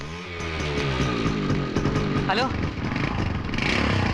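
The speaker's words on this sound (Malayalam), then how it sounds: "ബൈക്ക്." A motorcycle engine idles and revs close by with a buzzing, uneven drone, heard under a voice during a tense street scene in a Malayalam film.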